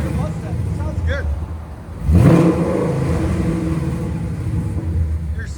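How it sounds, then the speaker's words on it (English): A 1992 Ford Mustang LX with a swapped Coyote 5.0L V8 and 14-inch Magnaflow exhausts rumbles loudly, then revs up sharply and holds a steady, throaty drone. "Now it sounds like a Mustang. It sounds good."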